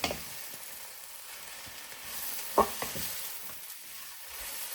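Salt and pepper chips sizzle steadily in a little oil in a pan, with a few louder scrapes and clacks as they are stirred and tossed; no voices.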